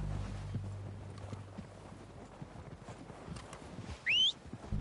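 Horses arrive in the Red Dead Redemption 2 video game with steady hoof clip-clops over a low rumble of ambient noise, followed near the end by a short, high whinny.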